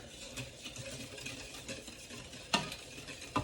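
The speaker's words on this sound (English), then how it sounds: "We got to keep whisking it." Gelato custard mixture is whisked in a pan with quick, soft, irregular scraping strokes, plus a couple of sharper taps of the whisk against the side, faint and close with no voices.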